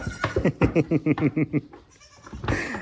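Mother goats and their baby goats bleating in a rapid run of quavering cries, close and loud, followed by a lower call after a brief lull.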